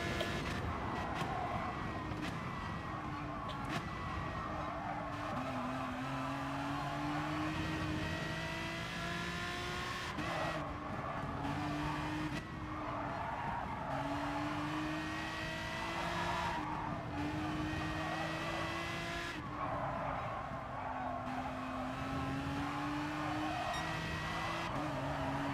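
Race cars in GT Sport howl through gear changes and corners, with repeated rising engine notes and long tyre squeals recurring every few seconds over a steady, continuous background of motor noise.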